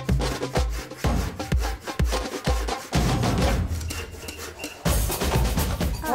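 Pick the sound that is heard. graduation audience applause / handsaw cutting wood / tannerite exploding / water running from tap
handsaw cutting wood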